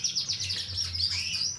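A green AF canary in moult sings a loud, rapid run of high chirps and trills, with a low hum underneath and no voices.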